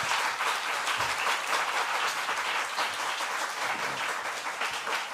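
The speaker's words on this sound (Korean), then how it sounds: "우리 나오실 때 뜨겁게 박수로 환영하도록 하겠습니다" An audience warmly applauds a physicist coming forward at a church-style testimony gathering, giving dense, continuous clapping at an even loudness throughout with no talking over it.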